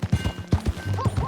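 Horse hooves clip-clop in a quick, uneven rhythm from a Red Dead Redemption 2 ride, close and fairly loud, with a brief whinny-like tone near the end.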